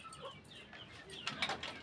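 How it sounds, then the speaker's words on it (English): Chickens on a poultry farm give soft clucks and chirps while being let out. The calls are brief and scattered, fairly close, and they grow busier toward the end. No voices are heard. "They are just chickens."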